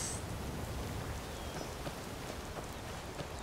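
Steady rain falls in the Skyrim video game, a continuous even hiss of drops on surfaces with no break, moderately loud and close, alone without talk.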